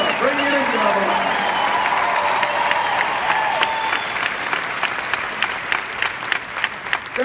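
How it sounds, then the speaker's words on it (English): Large convention audience breaks into sustained applause, a continuous roar of clapping with a voice speaking over the start, then individual claps standing out as it carries on. "Give yourself a round of applause."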